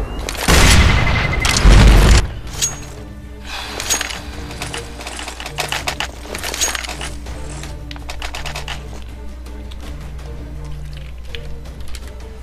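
A decoy grenade in Counter-Strike: Global Offensive bursts with a loud boom near the start, then rapid fake gunfire crackles on in scattered, uneven bursts over steady game ambience, with no talk.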